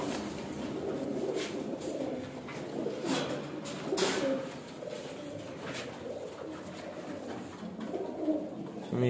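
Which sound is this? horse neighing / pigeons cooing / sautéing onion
pigeons cooing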